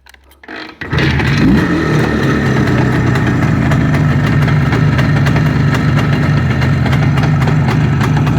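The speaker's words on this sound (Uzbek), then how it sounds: "Mana motorlar ishlashini ko'ring." A motorcycle engine starts after a short rattle and then runs at a steady, loud idle with a constant throbbing drone, very close, with no talking.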